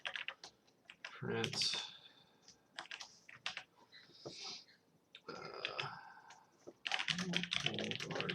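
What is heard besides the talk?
typing on a computer keyboard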